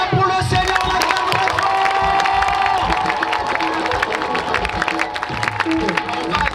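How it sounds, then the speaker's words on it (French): A large crowd at an evangelism rally cheers and shouts in acclaim of the Lord, a steady, loud roar of voices that rises and swells, with music sounding underneath. "On acclame pour le Seigneur, on acclame"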